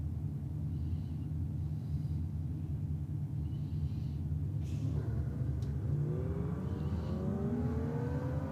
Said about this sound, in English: Sounds like the other Falcon Ute is downstairs.